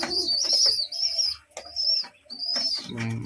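Pigeon chicks begging for food from a mother pigeon, shrill piping squeaks in short repeated bursts close by, with brief wing flutters and a soft coo at the end.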